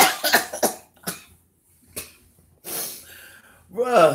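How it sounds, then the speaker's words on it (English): A man coughs close by in several harsh, broken bursts, with rough breaths between them and a short voiced sound at the end. "I'm coughing now"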